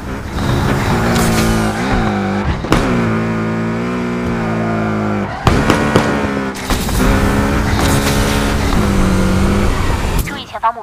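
Street racing car engine in the Need for Speed Mobile racing game, loud sustained revving with tonal rises and falls and sharp gear-change breaks, heavy music and effects layered over it.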